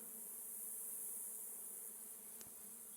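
Honey bees buzz at a mite-ridden hive in mid-October during orientation flights, a steady faint hum of many insects with one bee briefly passing close.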